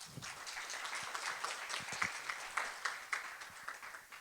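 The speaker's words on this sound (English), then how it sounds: "a round of applause for the panel" Audience applause at a technology policy panel on AI regulation, a steady wash of many hands clapping at moderate distance, fairly even throughout with a few sharper claps standing out.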